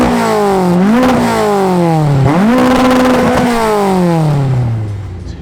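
Ex-racing Mk1 VW Golf 240bhp eight-valve engine on twin 45 carburettors revving hard, loud and close, with rising and falling blips toward 8,500 rpm before the note settles and fades.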